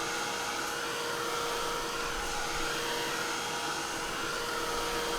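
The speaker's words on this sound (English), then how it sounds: "I'm going to hit that with a heat gun just to make sure it's dry." Heat gun blowing steadily to dry gold pen ink on an art piece, a continuous close whooshing roar of hot air that holds even throughout without pause, with no talking.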